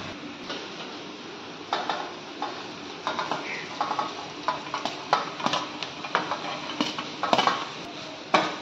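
Cooked rice for fried rice is stirred and broken apart in a pan, with irregular clinks and scrapes of the utensil against the pan over a soft sizzle. The strokes come in uneven bursts that grow busier toward the end.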